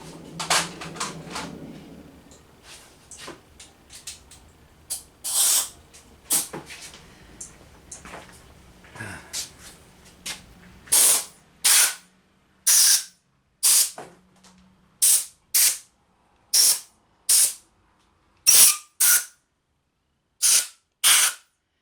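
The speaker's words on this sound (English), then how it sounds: "now I can get some compressed air and blow a little bit" Compressed air blows debris out of a VW aluminum engine part in sharp hissing blasts. Irregular bursts mix with light clatter at first, then come as a steady run of short, loud, evenly spaced puffs.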